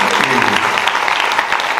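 The audience at a Korean real estate development seminar claps briefly after a panel discussion, a short, close burst of mixed handclaps.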